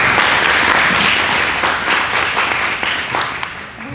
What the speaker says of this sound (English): Can we get a round of applause for our convening partners?